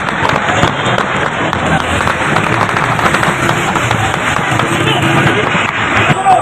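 Dense sharp cracks of gunfire ring out continuously amid a loud, chaotic crowd as Pakistani forces crack down on PTI protesters at D Chowk in Islamabad, the pops overlapping with shouting and running.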